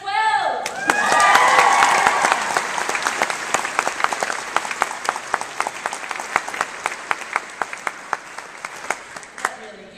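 A graduation crowd at Parkland Secondary's 2012 ceremony bursts into loud, sustained applause that swells quickly, then thins into scattered individual claps as it fades.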